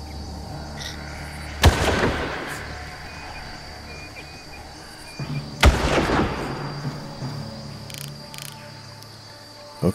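Gunfire in the Far Cry video game: two sharp, loud shots about four seconds apart, each with a long decaying tail, over a steady insect-like ambient drone.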